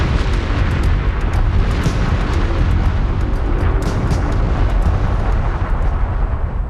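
Vesuvius erupting in a massive volcanic explosion, a loud, dense, continuous roar and rumble filling the whole span, with no talking.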